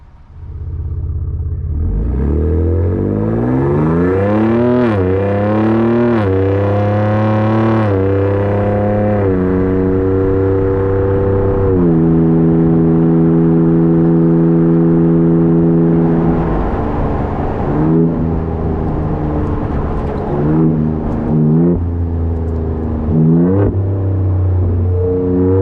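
A 2023 Ford Ranger Raptor pickup engine rumbles up from idle and revs repeatedly, rising and falling in pitch, loud and close, then settles into a steady drone.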